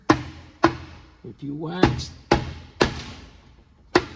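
Several sharp, hollow knocks of a rubber hammer on a Corvette C7 TR6070 7-speed transmission tail housing land about every half second, with a brief spoken phrase in between; each strike is close, loud and decays quickly.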